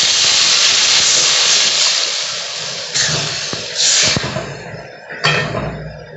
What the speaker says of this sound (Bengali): মশলা থেকে তেল ছাড়তে শুরু করেছে আমি জল দিয়ে দিচ্ছি